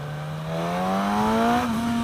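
A 2016 Suzuki GSX-S1000 ABS motorcycle accelerates hard at three-quarter throttle, its engine note climbing steadily in pitch from nearby, loud and alone, then easing slightly at the end.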